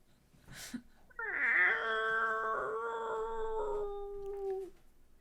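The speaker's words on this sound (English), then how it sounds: "You hear this, like a cat yowling." A long, wavering cat yowl in a tabletop role-playing game rises and holds for several seconds, loud and close, sliding slightly in pitch before trailing off.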